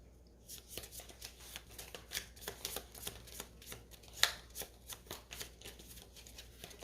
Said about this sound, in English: So take all your cards, shuffle them.